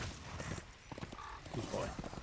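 A horse's hooves clip-clop in the video game Darksiders: Warmastered Edition, a rhythmic string of close hoof falls with some low rumble and faint voice-like sounds mixed in.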